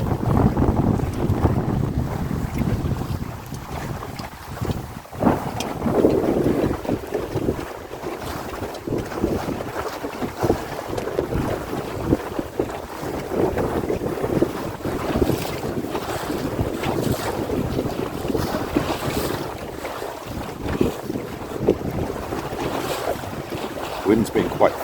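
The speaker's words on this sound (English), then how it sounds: "The boat's sailing beautifully at the moment." A sailboat sails through fluky wind on the open sea, steady wind roaring across the microphone over the wash and slap of water against the hull, continuous and fairly loud throughout.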